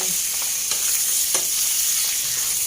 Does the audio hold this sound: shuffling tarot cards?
no